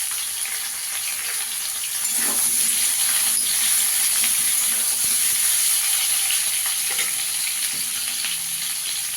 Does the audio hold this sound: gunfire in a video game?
no